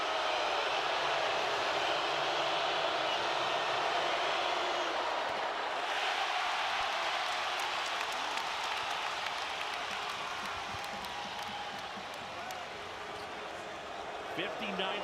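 A packed Allen Fieldhouse crowd of about 15,300 at an Arizona vs Kansas men's college basketball game roars in a sustained, dense wash of cheering that eases slightly toward the end.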